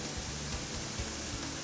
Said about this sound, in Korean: 트리베르크 폭포는 여러 개의 작은 폭포로 이루어진 계단식 폭포입니다.